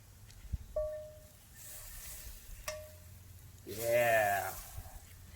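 Butter sizzles and fries in a pan over a campfire outdoors, a soft crackling hiss broken by a few scraping stirs, with a loud burst of sizzle near the end.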